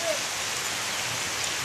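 Steady rain patters on a surface, a soft continuous hiss of falling drops with no other sounds standing out.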